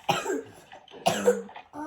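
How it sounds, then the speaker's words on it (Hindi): Two bursts of harsh coughing, close and fairly loud, separated by a short pause, with a softer throat-clearing rasp at the end. "खांसी भी उसको बहुत आ रही है"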